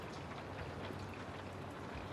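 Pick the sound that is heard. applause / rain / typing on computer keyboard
rain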